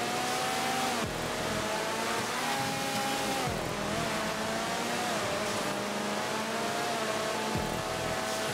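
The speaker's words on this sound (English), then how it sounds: "Eight different sports cars in this race." Eight sports cars race in GTA 5, engines roaring continuously and loud, with repeated rising whines that drop sharply at gear shifts, no voices present.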